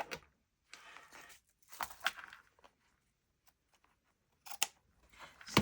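Scissors snip and trim through the cover of a handmade junk journal in a series of short, close bursts separated by quiet pauses, with no talking.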